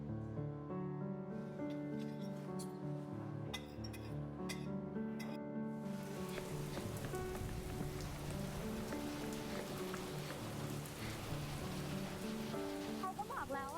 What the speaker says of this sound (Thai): ฝนตกหนักขนาดนี้